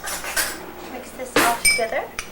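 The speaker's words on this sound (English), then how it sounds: "Mix this all together." Metal utensils clink and scrape against a bowl in a few short bursts as ingredients are mixed with soy sauce in a kitchen, fairly close and moderately loud.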